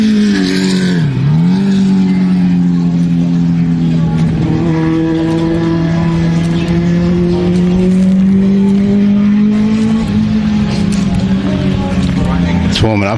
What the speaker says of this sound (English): Those high horsepower cars, they are fast. Loud as anything when they're going down the straight.